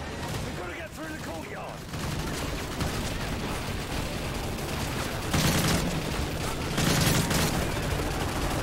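Rapid gunfire in Call of Duty Modern Warfare 3 aimed at the player, steady crackling shots with louder bursts near the end, a voice talking underneath.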